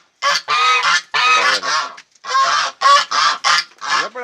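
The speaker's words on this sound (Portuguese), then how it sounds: "Olha os gansos." Several geese on a small farm honk loudly and close by in overlapping bursts, forming a noisy, nearly continuous chorus with brief pauses and no talking.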